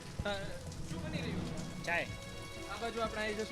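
Rain falls steadily on surfaces in an Ahmedabad street beside a tea stall, a continuous dense patter underneath close voices talking throughout.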